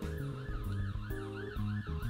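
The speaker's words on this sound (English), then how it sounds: "apologise for the sound of the ambulance going past" An ambulance siren wails steadily on a nearby main road, a loud, continuous rising and falling tone that fills the short moment with no voices over it.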